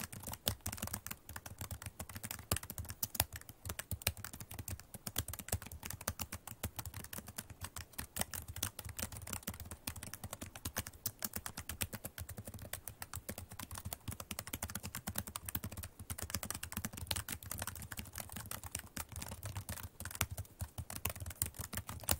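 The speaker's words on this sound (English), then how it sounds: "I'm typing this." Rapid, continuous typing on a Chromebook keyboard, dense quiet key clicks that keep a steady pace throughout with no voices.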